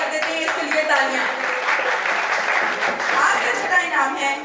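An audience at an ACN Broadband and Ashiq Cable Network award show claps in steady, moderate applause, with a voice talking over the clapping.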